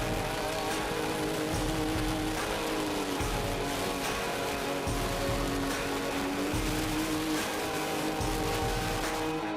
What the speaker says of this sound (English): a torrential downpour began out of the blue